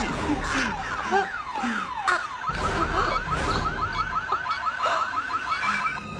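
A car alarm in a French action film wails loudly and steadily with repeating rising and falling sweeps, running nonstop under tense dialogue.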